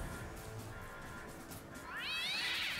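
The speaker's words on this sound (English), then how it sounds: "I didn't see that cat." A cat meows in the South Park: The Fractured But Whole video game, a rising, drawn-out call near the end that swells over a busy bed of game music and effects.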